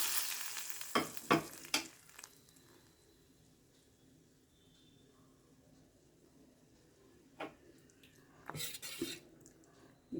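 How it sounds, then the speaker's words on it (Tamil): Spices tempered in hot oil for sambar sizzle steadily at moderate level, broken by a few sharp metallic clinks of a ladle against the pan near the start and again toward the end. "இப்போ தாளிப்பை கட்டிடலாம்."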